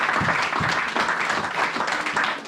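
A church congregation applauds during a worship service, a short burst of dense clapping over murmuring voices.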